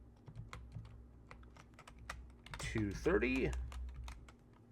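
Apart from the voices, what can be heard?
typing on a computer keyboard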